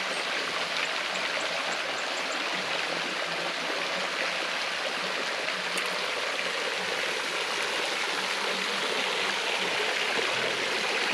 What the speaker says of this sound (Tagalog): Yan, tuloy-tuloy lang yung agos ng tubig.